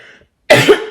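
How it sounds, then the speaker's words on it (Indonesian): A person with a cough from talking a lot, giving a sharp, loud close cough burst followed by a second short cough, with quiet before. "Kalau banyak ngomong batuk, kalau diem enggak."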